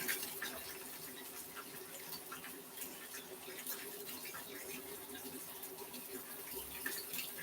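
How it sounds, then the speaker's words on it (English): Hot Escovitch pickling liquid is poured over fried snapper, giving a steady, watery splash and trickle that runs evenly throughout at close range, with no talk. "And I'm just going to pour that on top of my fish."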